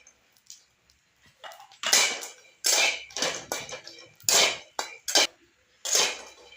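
Grated coconut and garlic roasting in a pan give off a run of scraping, clattering bursts as they are stirred, loud and close, with short pauses between strokes.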